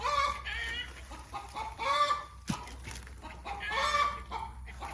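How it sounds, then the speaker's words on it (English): Hens cluck and cackle repeatedly in loud rising bursts after laying an egg, with a brief sharp knock midway and steady low background hum throughout. "I think my chicken just laid an egg or something."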